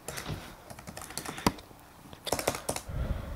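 Quick, uneven keystrokes on a computer keyboard as a file name is typed, a short burst then a pause and another cluster of taps, close and fairly quiet with no speech.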